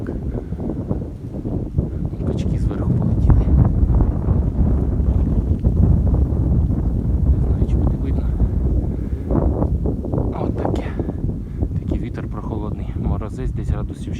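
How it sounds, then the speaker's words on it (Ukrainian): Wind roars steadily against the microphone in a frosty apiary of log beehives, a loud, close, buffeting rumble that barely lets up from start to finish. "але вітер дує"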